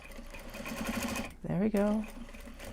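A sewing machine stitches the corners of a bag made from upcycled Japanese obi and kimono fabric, a short, close mechanical whir bursting in after a brief pause, with a voice speaking over the start.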